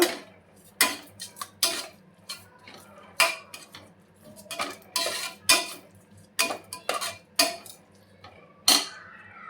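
A spoon clanks and scrapes repeatedly against a pan while egg pulav with chopped coriander is mixed, in sharp, irregular knocks over a quiet background.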